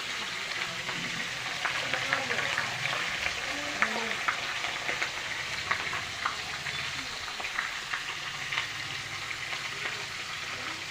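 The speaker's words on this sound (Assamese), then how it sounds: "মাছ ভজা আৰম্ভ কৰি দিলোঁ।" Pieces of fish sizzle steadily in hot oil in a home kitchen, a continuous close frying hiss with intermittent stirring and scraping sounds throughout.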